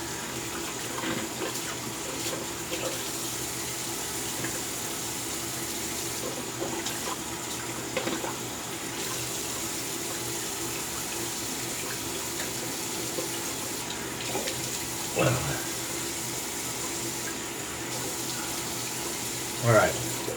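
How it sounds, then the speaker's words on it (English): Water runs steadily from a bathroom tap while a shaving brush is rinsed under it, a constant splashing hiss with small bumps as the flow is disturbed near the end. "That was the warm water. Now some cold water."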